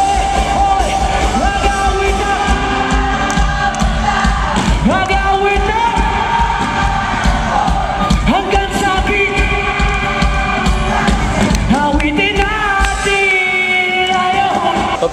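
Crowd at a concert at Musikat, Resorts World Manila, cheering loudly and continuously with yells and whoops over band music, with sharp bursts of shouting rising throughout.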